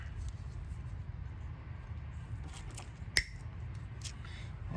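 A single sharp snip of cutters through the crankshaft position sensor wire on a 1999 Ford Ranger 2.5L four-cylinder, one brief crisp click standing out against a low steady background hum.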